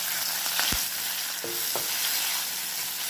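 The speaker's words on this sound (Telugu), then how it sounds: "అందులో 1 చెంచా మినప్పప్పు, ఎండుమిరపకాయలు, కొంచెం ఇంగువ, కరివేపాకు పోపు వేసుకోవాలి" Urad dal, dried chillies, asafoetida and curry leaves fry in hot oil for a tempering. There is a steady soft sizzle throughout with a few light clinks and stirring scrapes.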